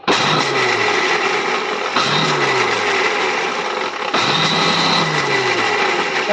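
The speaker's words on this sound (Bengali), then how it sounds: "এই যে মিক্সারের মধ্যে একটু নিয়েছি আর আমি একটু আরও গুঁড়ো করে নিচ্ছি" A kitchen mixer grinder runs hard, powdering split black gram lentils with a loud, steady motor whine that pulses in three surges, each starting with a sharp jolt and a falling low hum.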